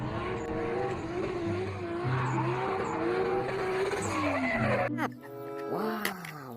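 A toy Formula One race car makes a rising engine whine with a tire-squeal sound, rising and falling and then ending sharply, with a short burst of sound right after.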